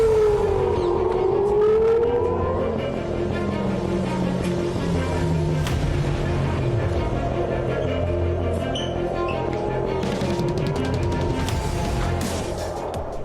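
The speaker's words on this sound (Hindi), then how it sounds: "तेल अवीव समेत 5 शहरों में अचानक हमले के अलर्ट पर सायरन बजने लगे।" Air raid sirens wail across Tel Aviv, several rising and falling tones overlapping loudly and continuously, with distant city noise beneath.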